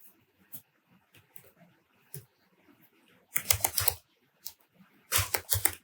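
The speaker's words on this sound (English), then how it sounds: "Just typing whatever I can type on my keyboard." Bursts of rapid typing on a computer keyboard, with clustered clicky keystrokes in two loud flurries separated by sparse scattered taps, close and with no talking.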